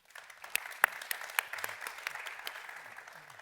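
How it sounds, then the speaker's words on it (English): Scattered applause from a modest summit audience, a few sharp claps standing out over a soft patter that continues steadily. "Please make them welcome with a round of applause."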